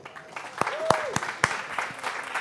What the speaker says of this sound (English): There's some loud applause back there.